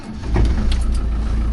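A 1998 Land Rover Defender engine turning over and catching, settling into a steady, loud low diesel-like rumble close by with no talk.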